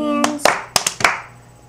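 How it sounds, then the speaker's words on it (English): Hands clap a few times in time to a children's song, sharp close claps in a short uneven burst after a sung line, with the music fading behind. "If you're happy and you know it, clap your hands."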